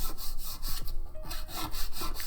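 A nail file rasps back and forth across a hard artificial nail in quick, close, rhythmic strokes, a dry, scratchy sound repeated about a dozen times with no talk.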